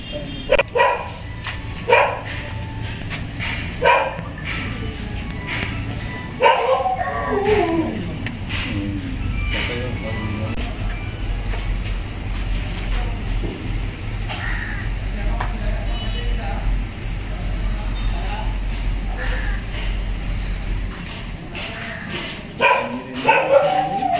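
A dog tied up inside a room barks and yips in scattered bursts, fairly close, under ongoing voices and a steady low hum through most of the stretch.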